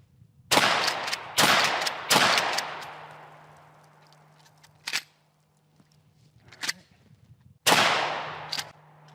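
Real firearm modeled on a Red Dead Redemption 2 gun, test-fired by hand: several loud, sharp shots, three close together and then isolated ones, each trailing off in a long echoing decay, with quiet gaps between.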